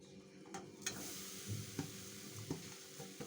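A coconut mixture is stirred in a hot wok over low heat, a soft, quiet sizzle with a few light scraping strokes of a spoon at intervals.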